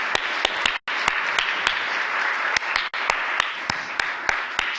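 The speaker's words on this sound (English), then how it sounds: "So please give them a big round of applause." Summit audience gives a steady, full round of applause, dense clapping close and loud throughout, with two brief dropouts.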